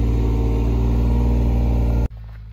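A skid steer engine runs steadily at close range, a loud, even mechanical drone with low harmonics, then cuts off abruptly near the end to a quieter background.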